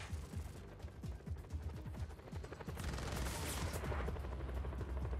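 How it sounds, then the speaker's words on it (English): Enemy gunfire in Just Cause 4, with rapid bursts of automatic fire and scattered shots crackling fairly close, growing denser and rougher toward the end. "Taking huge amounts of fire."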